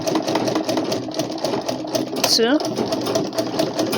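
A sewing machine runs fast, rhythmic stitches on a shirt buttonhole, a steady close mechanical whirr that continues under a speaking voice.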